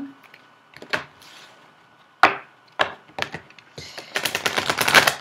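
Small oracle crystal cards slid out of their little cardboard box, giving a series of sharp papery taps and scrapes, then a quick run of dense rustling clicks as the deck is handled, close and fairly quiet.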